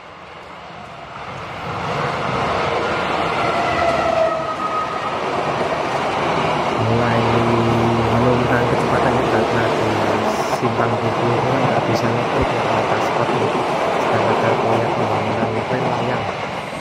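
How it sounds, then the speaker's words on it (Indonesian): The Banyu Biru passenger train, hauled by a CC201 diesel locomotive, passes on an Indonesian line between Solo and Semarang. A loud, steady rumble of engine and rolling wheels swells and holds close by, with someone talking over it. "dengan nama Banyu Biru dengan nomor KA 209F ya melintas di sini CC201 eksekutifnya biasanya di belakang lokomotif ini"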